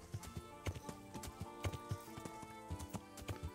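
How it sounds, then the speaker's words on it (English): Rhythmic hoofbeats of a horse galloping in the video game Kingdom Come: Deliverance, a quick, regular clip-clop with a faint snort, fairly soft and up close. "Hop the fence, horsey."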